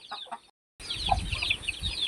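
Free-range chickens on a farm, a mixed flock including growing young birds, cluck and call while being fed rice, with one short clear cluck standing out over a busy bed of bird chatter and rustling.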